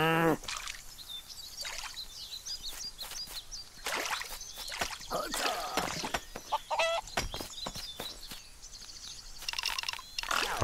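Chicken clucking in the video game Craft The World, a run of short, sharp clucks and squawks scattered over about ten seconds alongside clicks and other light game effects, with no talking.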